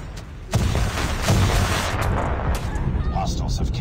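Grenade blast in Call of Duty Mobile during a hardpoint match, a sudden loud boom followed by rumbling battle noise and gunfire-like crackle, with game voice callouts mixed in.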